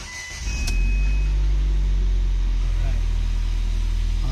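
A Ford Fiesta engine cold-starts and settles into a high, steady fast idle, close and loud, with a short starter burst at the beginning and someone talking over it.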